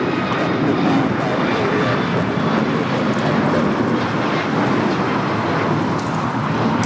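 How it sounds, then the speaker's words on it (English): An American Airlines Boeing 737 MAX 8 jet takes off from LAX bound for Miami, its engines producing a steady, powerful broadband roar at close range, with no talk. "2284 taking off to Miami on the MAX 8"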